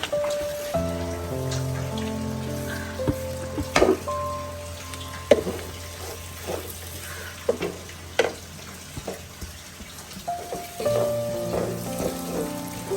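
Spice powders for a beef curry fry in a hot pan with a steady, close sizzle and occasional stirring clicks and scrapes, and faint tonal sounds linger in the background.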